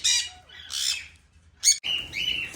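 Caged parrots break into a commotion of loud, harsh squawks in several close bursts, with brief gaps between them, set off when a ladder is brought indoors.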